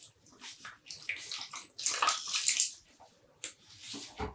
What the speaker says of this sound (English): we'll just pick up the skeins, squeeze out a little bit of the water